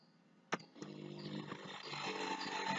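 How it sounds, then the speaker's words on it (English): After a sharp click, the low, rising rumble of motorbikes passing outside swells gradually louder and steadier, heard at a moderate distance through a room. "You can hear bikes too."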